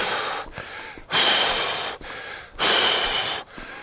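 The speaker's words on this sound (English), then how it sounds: "Breathe in again" Labored, heavy breaths drawn in sharply during a run by someone with serious breathing trouble, two long rasping gasps separated by short pauses, close and loud with no talk.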